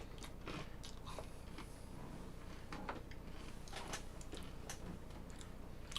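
Close, faint crunching and biting of a whole wheat Swedish snack, a string of short crisp crackles spread unevenly over a quiet background hum.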